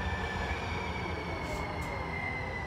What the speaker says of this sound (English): That train's going the wrong way.